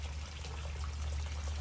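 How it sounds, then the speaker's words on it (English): Water flows steadily into a small backyard turtle pond, a faint continuous trickling and pouring wash under low rumbling background noise, with no talk. "Still see a little bit of white water coming in."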